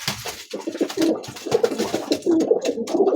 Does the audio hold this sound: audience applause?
no